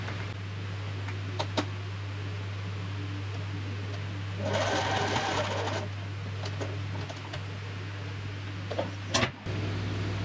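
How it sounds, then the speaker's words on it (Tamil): Sewing machine stitching fabric for heavy blouse hangings, a steady low mechanical hum with a louder burst of fast stitching in the middle and a few clicks around it. "ஸோ இந்த ஸ்கொயரில் வந்து இந்த எண்டில் இப்படி ஸ்டிச் பண்ணி நான் ஃபினிஷ் பண்ணிட்டேன்"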